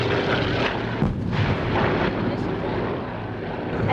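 Vintage World War II warbird airplanes fly overhead at an air show, a loud continuous engine roar that swells and fades slightly, with a voice talking over it.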